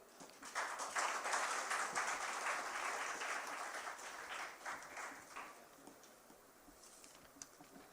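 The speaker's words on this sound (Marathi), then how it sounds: "आपण ह्या सर्व टाळ्यांचा गडगडाट झाला पाहिजे" An audience at a college function honouring guests claps in a dense, steady round of applause that holds for several seconds, then thins and fades into a quiet room.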